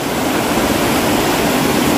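The fast, swollen Citarik river rushes past in a steady, loud, dense roar of flowing water, close by and unbroken, with no voices.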